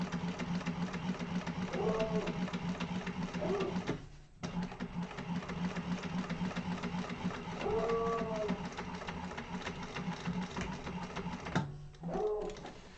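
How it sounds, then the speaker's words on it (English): A sewing machine topstitches a crossbody bag, running in a continuous steady whirring buzz close by, pausing briefly twice, while a voice speaks faintly at moments beneath it. "so that is sewn to a top stitching length"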